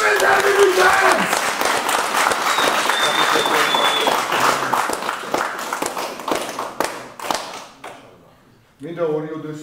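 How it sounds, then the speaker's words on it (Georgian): A crowd applauds the fighters at an MMA fight club face-to-face event, with sustained, loud, dense clapping that thins out and fades near the end before a voice begins speaking over the room. "აპლოდისმენტები ბიჭებს!"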